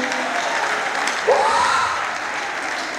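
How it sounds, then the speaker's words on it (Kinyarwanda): An audience bursts into applause, a steady patter of clapping at moderate distance, with a brief whistle-like tone and background voices mixed in. "Komera data amashyi umushimwe."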